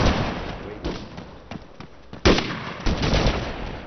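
Video game gunfire in an ARMA 3 firefight, a scattered run of sharp cracks and short bursts at varying distances, some louder close shots standing out over a rumbling background.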